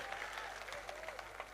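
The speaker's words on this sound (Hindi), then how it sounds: "ऐसी तालियां आपने बिहार का सम्मान में बजा दिया।" Audience clapping at a Hindi comedy and poetry stage event, a faint steady patter of many hands with small individual claps popping through, no speech over it.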